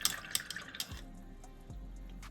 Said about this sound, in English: Then we wash the brush